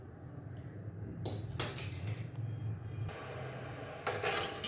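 Metal spoon clinks against a pot as a teaspoon of salt goes into water for peas, a few sharp chinks and a brief scrape over a low steady hum.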